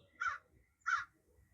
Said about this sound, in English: with some crows, blackbirds, whatever you want to call,